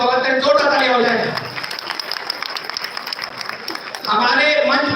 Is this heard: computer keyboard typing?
no